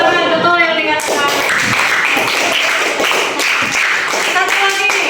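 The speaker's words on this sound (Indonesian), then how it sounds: "beri tepuk tangan betul yang dikatakan" Clapping from pupils in a school classroom, a dense patter of hand claps running throughout under a teacher's voice and children talking.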